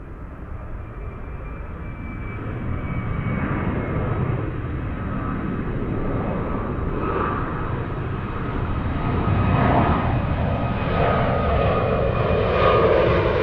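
Emirates jet airliner taking off at Zurich airport, a steady broadband engine roar that swells slightly toward the end, heard from a distance outdoors with no talking.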